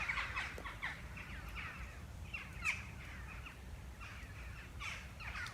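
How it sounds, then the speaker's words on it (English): A large flock of crows heading to roost at dusk over woodland fills the air with overlapping raucous caws, many distant and mid-range calls in continuous irregular bursts, with no voices. "Usually they go to dense woodland to roost for the night, the crows."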